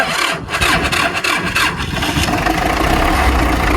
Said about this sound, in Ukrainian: Заводимо наш апарат.